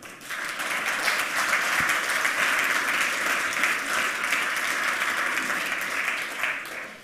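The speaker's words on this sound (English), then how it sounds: "please give him a warm round of applause" A conference audience at 27C3 gives a warm round of applause to welcome a speaker, with dense sustained clapping from many hands that holds steady for several seconds before tailing off.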